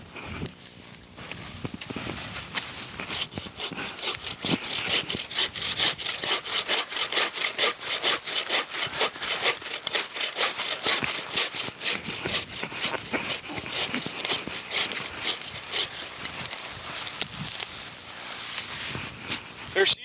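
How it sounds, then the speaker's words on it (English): A Christmas tree being sawn down outdoors, with a steady, rapid back-and-forth rasp of the saw through the wood that carries on loudly and continuously for the whole stretch. "let's cut this one down"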